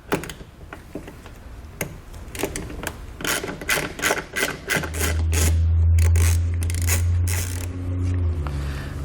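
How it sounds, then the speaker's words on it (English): A T15 Torx bit on a power driver backs a fastener out of a 2016 GMC Sierra during a Roadmaster base plate install, with clicking handling noises before a steady loud whir of the driver spinning. "This top one, I'm going to grab a T15 Torx bit and pull that out."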